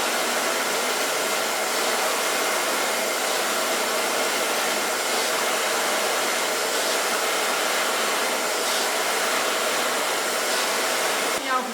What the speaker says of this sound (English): Zware föhn staat.